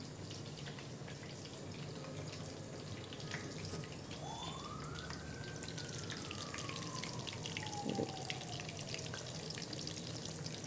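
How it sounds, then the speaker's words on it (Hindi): Lahori fish pieces frying in hot oil in a kadhai give a steady, soft, crackling sizzle. Faint background noise and a passing siren-like tone sit beneath it. "इस तरह से आपने फ़िश को फ्राई करना है"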